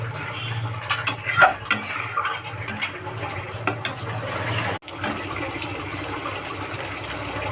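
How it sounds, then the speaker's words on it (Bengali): A ground paste of ginger, garlic and cumin sautéed in oil with onion for a snakehead fish curry: a low sizzle under repeated clinks and scrapes of a spoon against the pan, with a brief cut partway through. "এগুলো ভালো করে কষিয়ে নেব"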